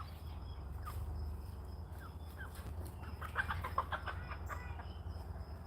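Easter Egger hen clucking in soft, scattered bursts over a steady low farmyard rumble, a few sharper calls rising near the middle, no one talking.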